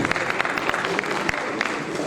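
Audience applause at a literary award ceremony, loud and continuous clapping from a seated crowd with individual sharp claps standing out throughout.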